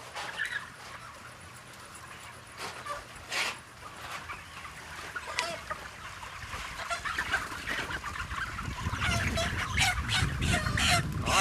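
Chickens clucking inside a poultry house on a farm, with scattered close clucks and calls over a constant flock murmur that grows louder toward the end.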